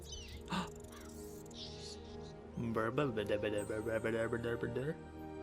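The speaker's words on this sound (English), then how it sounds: "A flock of crows has arrived." A flock of crows caws in Castlevania: Lords of Shadow, harsh repeated calls building into a loud, dense chorus over game ambience, with a voice talking alongside.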